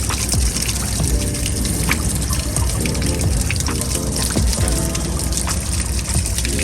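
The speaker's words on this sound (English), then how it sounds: "right now we're flushing off the hot water heater to get all that stuff out" Water gushes steadily and loudly out of the drain of an RV hot water heater as it is flushed, carrying sediment with it, a continuous close splashing rush that runs the whole time.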